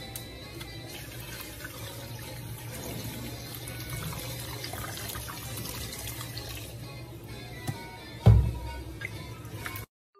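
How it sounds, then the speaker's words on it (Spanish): Cold tap water runs steadily into a pot of washed potatoes in a home kitchen, a continuous close splashing stream lasting several seconds with a brief louder clatter near the end before it stops. "Ahora le agrego el agua fría."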